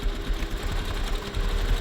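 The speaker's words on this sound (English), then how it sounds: "on this side I'm going to stitch as close as I can to the hardware, starting towards the center" Sewing machine stitching close to the hardware on a crossbody bag strap tab, a steady continuous mechanical whir with low rumble running throughout, close and alone without talk.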